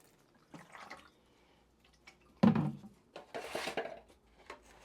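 Water is poured over winter-sown seedlings in containers, giving soft drips and splashes with a louder gush midway and light clinks of a container.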